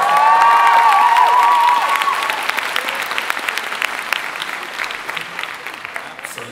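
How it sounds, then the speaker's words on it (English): Loud audience applause and cheering at a Stargate SG-1 fan convention panel at Wales Comic Con, with a high whooping cheer early on before the clapping settles into a steady, slightly fading roar. "Can we get a round of applause?"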